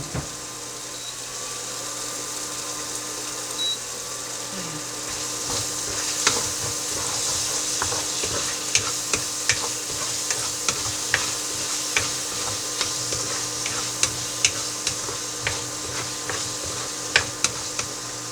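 Chili sizzles in a hot pan for adobo while a utensil stirs it, giving a steady frying hiss broken by frequent sharp scrapes and clicks, close up and without talk.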